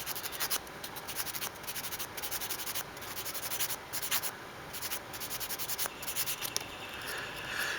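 Super fine sanding sponge rubbing over nub marks on a plastic Gundam model kit part, a steady close scratchy rasp of repeated short strokes with brief pauses, no voices.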